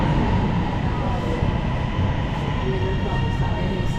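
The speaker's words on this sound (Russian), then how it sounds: "Наконец-то, это наша поезд, современный поезд." A modern train pulls into a station in Lahore, Pakistan, with a loud, close rumble and rolling clatter; faint voices are present in the background.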